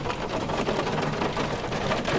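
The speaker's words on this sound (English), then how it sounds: "There's hail out here." Hail falling outside a campsite in Yosemite, a dense, steady patter of pellets striking surfaces close by, loud and continuous with no pauses or voices.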